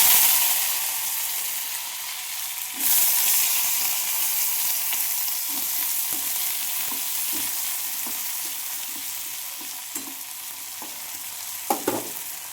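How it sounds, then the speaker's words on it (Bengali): Potatoes fry in hot oil tempered with panch phoron and dried red chilli, giving a loud, continuous sizzle close by with intermittent stirring scrapes and clinks. "দেখুন আমি এতে 5 ফোড়ন দিয়েছি তেলের মধ্যে, আর শুকনো লঙ্কা ফোড়ন দিয়েছি। তো আমি এবার এর মধ্যে আলু দিয়ে দেবো।"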